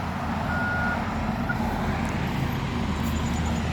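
An excavator and truck reverse at a site, with steady reversing beeps over a constant engine drone and roadway noise, heard from a moderate distance.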